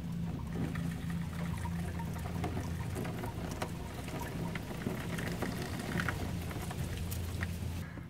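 Water poured into the engine of a 1979 Dodge W300 club cab truck with a worn freeze plug, a continuous splashing, gurgling trickle heard close up for several seconds, no talking.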